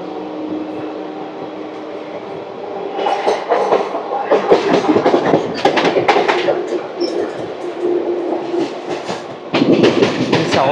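The Pinakini Superfast Express running on rails near Gudur between Vijayawada and Chennai: a steady rumble from inside the train that swells into loud, rapid clickety-clack over the rail joints, with brief voices in the background.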